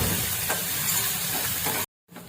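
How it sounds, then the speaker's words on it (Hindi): Onions with green chillies fry lightly in a pan for a Rajasthani dal, giving a steady, close sizzle and hiss that runs unbroken before cutting off abruptly, with no talking. "और इस प्याज को मैं हल्का सा भून लूंगी।"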